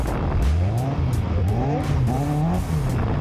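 Car tires spin and squeal on a wet track while drifting, the engine droning and rising in pitch beneath repeated, wavering screeches that stay close and loud throughout.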